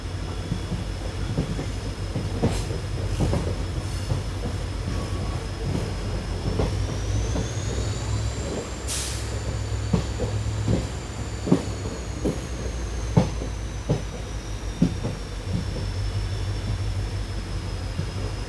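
Fast Mangaluru–Bengaluru express train rolling on rails through a ghat section with banker engines, a steady rumbling drone with periodic clickety-clack wheel thumps over rail joints and a brief high squeal midway, continuous and fairly loud.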